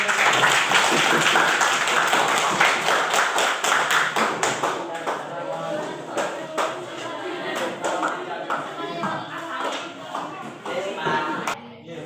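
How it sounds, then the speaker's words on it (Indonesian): Classroom applause from a group of students after a discussion, loud dense clapping at first that thins into scattered claps and taps, with voices mixed in. "Oke, tepuk tangan."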